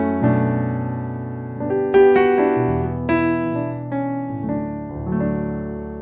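A sampled Yamaha grand piano from the Native Instruments Claire plugin plays sustained chords with a melody on top, rich and resonant, with no voices over it.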